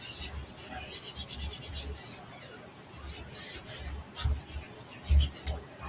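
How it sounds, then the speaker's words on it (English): A burnishing tool rubbed over a stencil or transfer on a pumpkin-shaped oval plaque, giving close, scratchy rhythmic strokes with a few louder thumps and taps near the end. "I'm going to burnish it."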